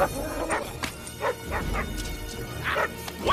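A dog barks in a scene from the film Small Soldiers. There are several short yips and barks mixed into a busy film soundtrack with background music.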